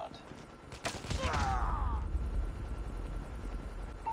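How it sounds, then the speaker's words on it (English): A hostile stealth helicopter in the Call of Duty Mobile video game, its rotor roar and rumble building and holding loudly, with a brief sweeping mechanical whine and bursts of gunfire-like crackle early on. "Hostile stealth chopper inbound."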